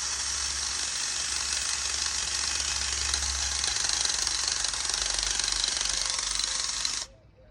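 A loud, steady grind of a wire brush on a power drill scrubbing rust off a wagon wheel, harsh and wiry, running without pause for about seven seconds and then cutting off abruptly.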